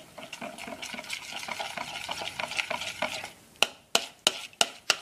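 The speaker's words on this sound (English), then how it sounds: "Stir that up." A spoon stirs Thai peanut sauce for slow cooker chicken, with soft rapid scraping in a pot, then five sharp separate knocks near the end, close and fairly quiet with no talk.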